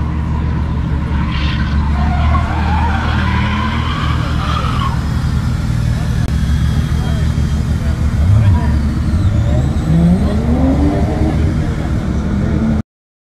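Hot hatchback on a track skidding with engine revving, steady loud vehicle noise throughout with tire squeal rising near the end, people talking over it.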